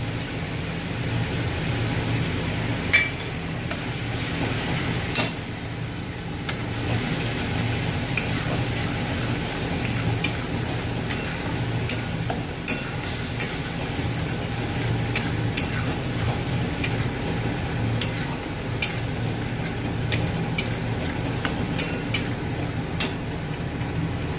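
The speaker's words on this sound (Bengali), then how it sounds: "মশলাটা ভাজতে থাকবো।" A paste of turmeric, coriander and cumin fries in a pan under a steady low sizzle for about twenty seconds, with frequent sharp ticks and scrapes from stirring.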